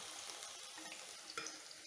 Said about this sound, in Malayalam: പഴം വറക്കുന്നു.